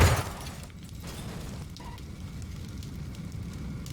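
A sudden explosion in Garry's Mod bursts loudly at the very start, then gives way to a low, steady rumbling tail that lingers to the end without voices.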